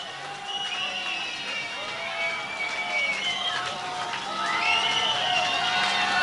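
A concert audience at a secret blues gig cheering and applauding for the band to come back, a loud continuous wash of shouts, whoops and clapping building toward the end.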